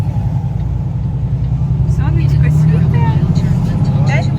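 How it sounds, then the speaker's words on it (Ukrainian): A semi truck's engine hums in a low, steady drone inside the cab, loud and unbroken, while a voice speaks over it. "Все, вже машинка гудить і виключаємося."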